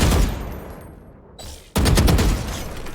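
Automatic gunfire in the Valorant practice range, a loud burst of rapid shots that fades, a brief pause, then another dense sustained burst, with no talk.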